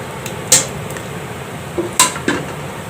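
Shredded meat dropped into a pot of haleem, giving a few sharp metallic clinks and clatters of a spoon against the cooking pot, spaced apart over a low background hum.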